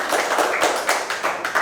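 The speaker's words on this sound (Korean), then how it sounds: "박수 칠 때는 박수 쳐주세요." Crowd at a political rally in Daejeon claps in a brisk, steady burst of applause, close and fairly loud, with no talking over it.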